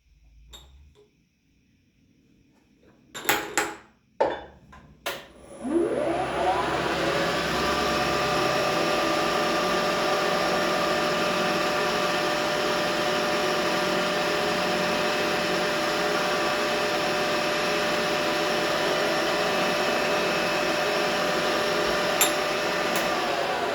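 A manual milling machine chamfering V blocks, starting with a few sharp knocks and clatters, then the spindle spinning up into a steady, loud whirring drone with a mechanical whine that holds for the rest of the stretch.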